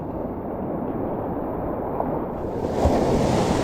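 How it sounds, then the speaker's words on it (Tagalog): Large ocean waves of the southwest monsoon roar in a steady, broad rumble along a diversion road, with wind buffeting the microphone, swelling louder near the end. "Oh, ang laki ng alon."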